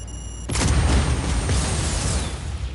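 A generator explodes in the video game Just Cause 4. After a faint tonal hum, a sudden loud boom breaks out and settles into a crackling, rumbling roar that slowly fades.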